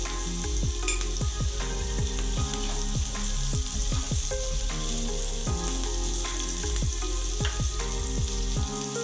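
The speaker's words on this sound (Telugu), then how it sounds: "క్యాప్సికమ్ కూడా ఫ్రై అయింది" Capsicum sizzles steadily in a hot pan for paneer fried rice, a dense continuous frying hiss with repeated scraping stirs, close and loud, with no talk.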